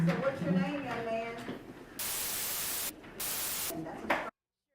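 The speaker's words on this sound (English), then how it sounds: "The white noise is him censoring his name, and obviously his son's name." A court recording in a traffic case where bursts of loud white-noise hiss censor a name, cutting in over a man's speech in two long blocks before the sound stops.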